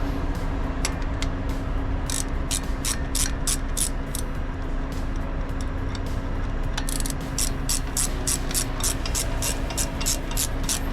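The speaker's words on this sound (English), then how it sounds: "There you go, ratcheting that off now." A ratchet spanner undoes a nut during heavy roadside recovery of a dustcart, giving bursts of quick clicking over constant traffic and engine rumble.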